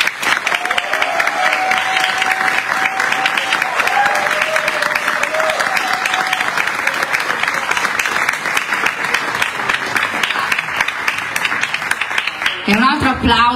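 Long, loud ovation from a concert audience in Italy after a tribute performance, thick continuous clapping with a few whistles and shouts mixed in, breaking off abruptly near the end.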